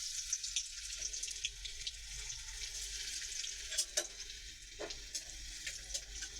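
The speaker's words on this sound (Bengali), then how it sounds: "তেলটা গরম হয়ে গেছে। এবার একে একে রসুন কুচিগুলো দিয়ে দেব।" Chopped garlic fries in hot oil in a kadai on a gas stove, giving a faint, steady sizzle with a few light clinks and stirring taps, and no voices.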